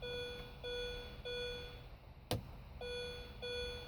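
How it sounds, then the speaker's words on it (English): A BMW R50 warning chime dings repeatedly in a steady, evenly spaced pattern of clear tones while the door is open, briefly interrupted by a sharp click or thud. "I turned it off and put the key back in, and it's dinging."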